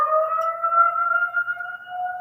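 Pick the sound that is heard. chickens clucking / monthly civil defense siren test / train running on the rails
monthly civil defense siren test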